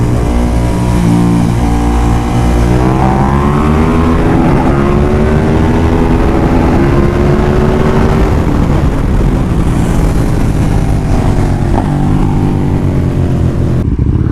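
Loud, close motorcycle engine accelerating and revving through the gears, rising pitch sweeps repeating over about fourteen seconds with no talk.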